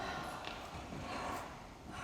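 A performer draws in a sharp, audible breath during a live breathing performance, one close, breathy inhale filling about two seconds with no talk over it.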